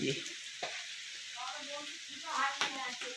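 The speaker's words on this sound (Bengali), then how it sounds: "এই রান্না হচ্ছে এখন" Fried rice for a birthday meal frying in a pan makes a steady sizzle with stirring scrapes and a couple of sharp clinks, while voices are faintly heard in the background.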